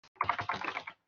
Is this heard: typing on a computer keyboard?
yes